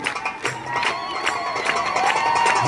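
A street crowd at a Paris street performance cheers and shouts continuously, with bursts of high ululation-like calls rising over the steady roar of voices.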